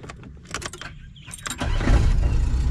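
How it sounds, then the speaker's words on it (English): A Suzuki Sidekick with a header exhaust: a few light clicks, then the engine cranks and catches into a loud, rough, close-up exhaust rumble. "You hear the header? Nobody wants this car to sound like that."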